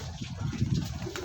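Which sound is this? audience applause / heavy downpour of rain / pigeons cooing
pigeons cooing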